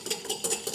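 A single egg is whisked in a small mixing bowl for cookie batter, a quick series of light rhythmic metallic taps and swishes, close and clear with no talking.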